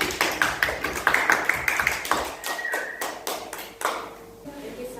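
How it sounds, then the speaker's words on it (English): A classroom of students claps for a student group, a short burst of dense applause that swells and fades over a few seconds, with a teacher's voice and a bright ping mixed in. "Give applause to this group."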